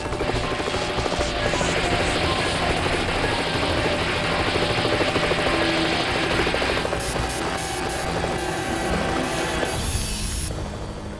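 A helicopter working at a power line roars steadily and loudly throughout, its rotor chop and engine whine dense and continuous, easing off slightly near the end.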